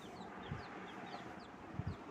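Hens in a wooden chicken coop give soft, scattered clucks and brief squawks at low level, with a couple of louder bursts near the end and no talking.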